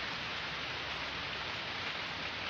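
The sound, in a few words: rain falling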